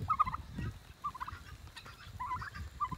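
A turkey gobbles outdoors at a rural paddock during rain, several short gobbling bursts repeating close by over a soft wet background.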